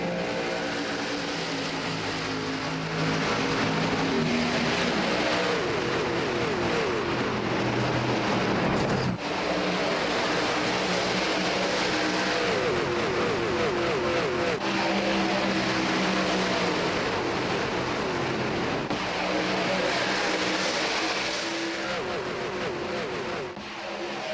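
Race trucks in a Truck Series event, the Brickyard 125 at Indianapolis Motor Speedway, roar past on a green-flag restart, loud overlapping engines rising and falling continuously as the pack accelerates.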